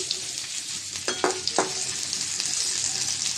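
Chopped onions fry in hot oil in a wok, giving a steady sizzle broken by a few sharp scraping stirs near the start.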